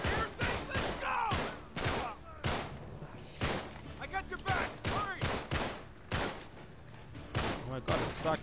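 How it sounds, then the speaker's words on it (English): Repeated enemy gunfire bursts in the action game Uncharted 3, sharp shots coming in rapid irregular volleys over several seconds, loud and close, with someone talking over the shooting. "this guy's shooting at me again"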